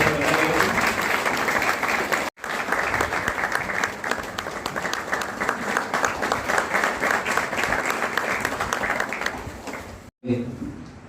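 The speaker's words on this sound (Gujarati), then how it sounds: "તાળીઓનો ગડગડાટ" A hall audience at a district-level education innovation festival in Khambhalia bursts into loud, sustained applause, dense clapping that carries on with brief breaks, with voices mixed in.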